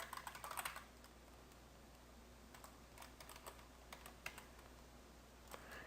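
A password being typed on a computer keyboard during PHP and MySQL database setup: a quick burst of close keystrokes at the start, then a few scattered, faint clicks over a quiet background.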